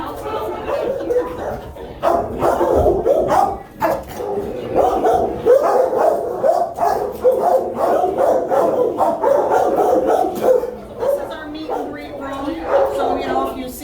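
Many dogs bark in the kennels of an animal shelter, loud, overlapping and continuous, with some yips and whimpers mixed in, while people talk nearby.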